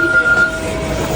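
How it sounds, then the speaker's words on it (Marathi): A London train running, heard from inside the carriage as a loud steady rumble with a faint high whine, brief and continuous. "ट्रेनमध्ये बसलो आहोत"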